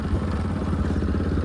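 Motorbike ridden over a rough, broken road in Assam, a steady close engine drone with rattling clatter throughout, no talking.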